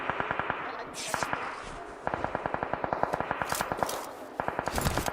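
Rapid automatic gunfire crackles in a PUBG Mobile esports match, fast rhythmic bursts repeating in several volleys with brief pauses, punctuated by sharper distant reports, and a commentator's voice faintly underneath.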